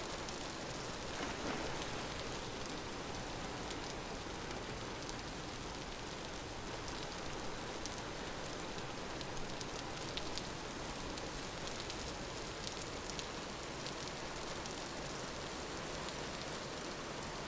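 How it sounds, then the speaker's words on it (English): Steady rain hisses evenly on a surface with faint scattered droplet ticks, a constant wash of ambient weather from a video game, with no voices. "I guess it must just be the rain sound effect."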